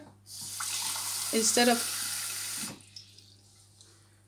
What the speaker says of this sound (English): And what I'm going to do is I'm going to like add just warm water